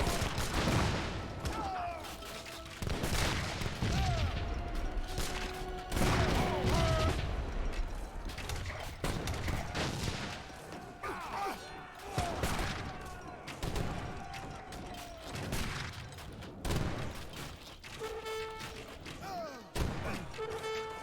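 Grenadiers in Age of Empires 3 pound enemy Obelisk guns, producing repeated bursts of explosive cannon and musket fire with heavy thuds, dense at first and then thinning into scattered blasts and clanks.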